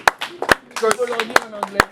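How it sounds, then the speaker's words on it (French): A few sharp, evenly spaced claps ring out at a youth Bible study as the congregation applauds, mixed with a voice speaking over them. "On applaudit."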